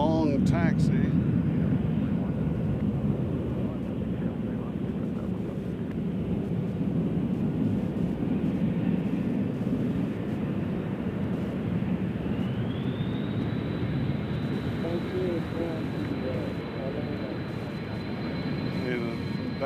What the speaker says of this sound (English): As we have Amazon having to do the long taxi.